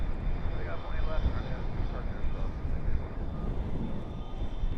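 An airplane taking off from runway 18 left at Dallas/Fort Worth International Airport at night, a steady broad roar heard from a distance with muffled talk mixed in.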